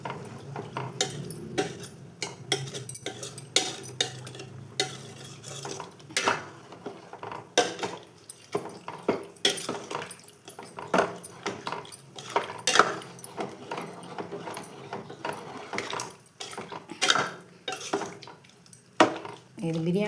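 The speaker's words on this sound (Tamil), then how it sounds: "இப்படி நல்லா கலந்து விட்டுக்கோங்க." Rice and masala being stirred in a metal pot for vegetable rice, with repeated scraping and clinking of a spoon against the pot in an uneven rhythm, close and fairly loud, with no clear speech.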